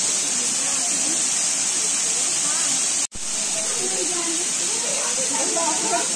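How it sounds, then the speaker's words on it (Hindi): A waterfall at an eco-tourism park gives a steady, broad hiss of falling water that runs continuously with one brief dropout midway, and faint talk sits underneath. "यहाँ पे आप झरने का व्यू देख सकते हो।"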